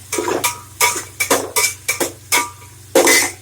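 Onions are stirred in a pan with a metal spoon, making repeated close scraping and clinking strokes in an irregular rhythm over a low steady hum, with faint sizzling underneath.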